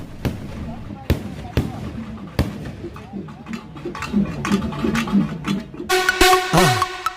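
Sivakasi fireworks burst in sharp, loud bangs spaced a second or so apart, then a dense crackling, whistling flurry of shells builds to a bright climax at the end.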